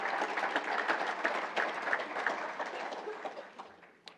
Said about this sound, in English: Please give them a round of applause as some of them are here in this room today.